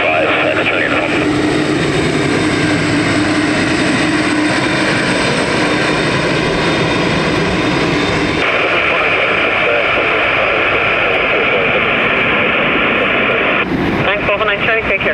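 Airliner EI133 departing Dublin Airport for Boston, a loud broad jet roar that swells and sustains through the takeoff run, with a radio voice talking over it and a brief change near the end.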